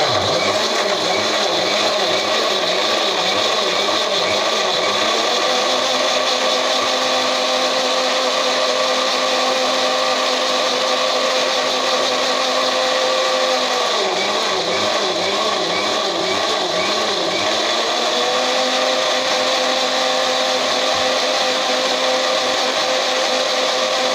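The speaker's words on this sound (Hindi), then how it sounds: "और अब इसे ग्राइंड कर लेंगे।" A mixer grinder whirs loudly and steadily while grinding green coriander chutney, its motor pitch dipping briefly midway before settling back into a continuous high-speed drone.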